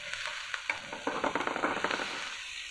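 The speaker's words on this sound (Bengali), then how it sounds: "পেঁয়াজটা ভাজা হয়ে যায়। পেঁয়াজ রসুনটা আমার মোটামুটি বেরেস্তা হয়ে গেছে।" Onion and garlic frying in a wok, a steady close sizzle with scattered crackles and light stirring scrapes, alone with no talk.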